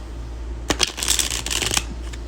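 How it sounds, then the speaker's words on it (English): Tarot cards from a Kawaii Tarot deck, thin card stock, being shuffled by hand in a quiet room: a close, crisp riffling burst of papery flicks lasting about a second, with a few soft taps after. "So I'm gonna do like a shuffle for you all."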